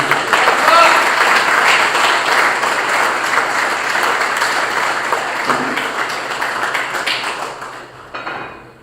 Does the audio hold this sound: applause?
yes